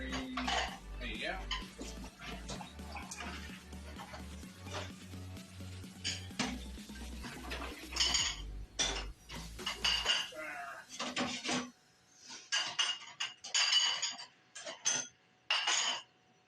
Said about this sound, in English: I'll do your dishes right now. This is all of our dishes right now.